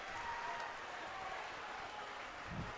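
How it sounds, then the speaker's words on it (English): A high school student section claps steadily at a basketball game between Kapaun and Maize South, a dense, even wash of many hands that holds at the same level throughout. "And the claps rain for Stuckey."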